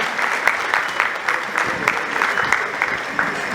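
Audience applause at an award ceremony honouring Sonu Nigam, a steady wash of many hands clapping with a few sharper individual claps standing out, fairly loud and continuous throughout.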